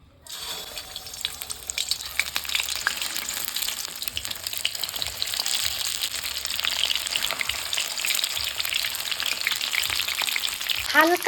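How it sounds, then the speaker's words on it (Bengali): Eggs sizzle as they drop into hot mustard oil with potatoes in a pan, giving a loud, continuous frying hiss close by that builds steadily, with faint clinks near the end. "তেল গরম হয়ে গেছে এবার আমি আলুর ভিতরে ডিমগুলো তেলে এক অল্প অল্প করে দিয়ে দেবো"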